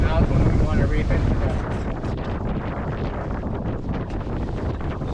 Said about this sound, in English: The winds in the afternoon really picked up and were blowing well over 20 knots